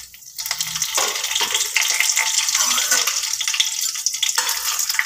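Cloves, cinnamon, bay leaf and a whole dried red chilli crackle in hot oil in a pot, a loud, continuous close-up sizzle starting after a quiet half second and holding steady throughout.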